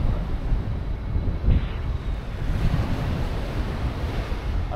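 Ocean surf at Kuta beach washes in steadily with wind buffeting the microphone, a continuous broadband roar with a slightly louder surge midway and no talking.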